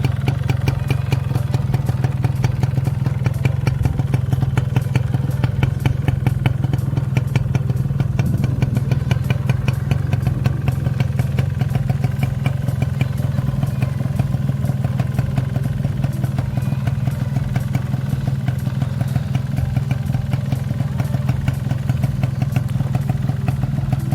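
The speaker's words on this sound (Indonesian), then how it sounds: "Ini kondisi mesin menyala." A 2000 Yamaha 125Z motorcycle engine idles steadily at close range, a low continuous rumble with a fast, even mechanical clatter that never changes pace.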